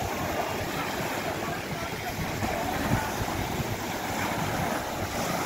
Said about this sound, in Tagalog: Lakas ng alon mga kusot.